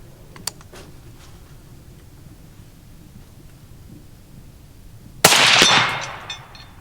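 A single loud rifle shot, kicking harder than a .223, cracks out near the end and decays over about a second, after a quiet stretch with faint clicks; the distant gong hit is not distinct.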